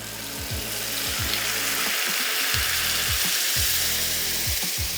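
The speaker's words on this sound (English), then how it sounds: "now is the time to add our gorgeous creamy onion paste" A creamy onion paste hits hot tempering oil for paneer Mughlai and sets off a loud, dense sizzle. A rhythmic mechanical whir pulses underneath throughout.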